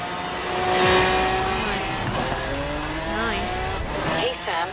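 Race car engine roaring with tire squeal in the Forza Horizon 3 racing game, a continuous loud engine drone with sweeping pitch changes and screeching tires, with a voice speaking over it.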